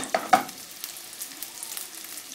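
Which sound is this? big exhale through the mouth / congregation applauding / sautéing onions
sautéing onions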